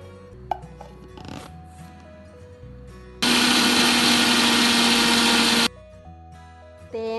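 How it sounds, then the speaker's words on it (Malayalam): A mixer grinder whirs loudly and steadily for a couple of seconds grinding roasted coconut paste with water, then stops, with quiet kitchen clatter before and after. "ഇതിലേക്ക് അരക്കാൻ വേണ്ടുന്നത്ര വെള്ളം ഒഴിച്ച് നന്നായി അരച്ചെടുക്കാം"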